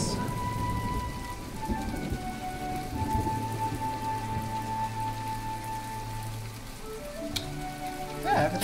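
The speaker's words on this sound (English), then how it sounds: "If the rain could go away, it'd be great." Steady rain pours down in the farming-and-crafting game My Time at Portia, a dense continuous hiss of drops with a low rumble beneath and a few soft game chimes near the end.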